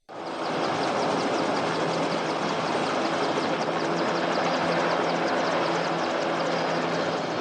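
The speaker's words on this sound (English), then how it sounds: "the helicopter still landing on the beach" A helicopter landing on a beach in the film Escape from the Planet of the Apes gives a steady, loud rotor roar with rapid blade chop that holds throughout, with no voices.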